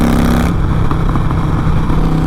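Harley-Davidson motorcycle engine with an exhaust leak, loud and close, idling and revving with a rough, sputtering exhaust note throughout a brief burst.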